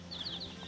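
Black australorp chicks in a brooder give a few quick, high peeps over a low background hum in a very short moment.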